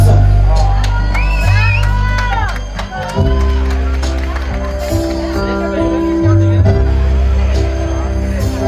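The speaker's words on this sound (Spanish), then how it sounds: "¡Fuerte el aplauso!" A crowd at a child's third birthday party in Corona, California claps, whoops and shouts amid loud party music, with a voice calling out over the noise.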